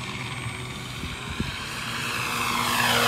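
An RC P-47 Razorback model warplane, 1500mm, comes in to land outdoors, its onboard ESS-AIR engine sound unit droning as a steady propeller roar that swells louder as it nears.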